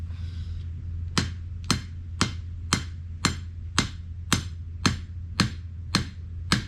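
A 2.5 pound hammer driving a ground pole, with about eleven sharp metallic strikes landing in a steady, evenly spaced rhythm, close and loud over a low background hum.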